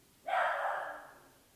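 A single sharp, fairly loud bark from a frustrated pet dog indoors at a cul-de-sac home, ringing briefly before fading out against a quiet background.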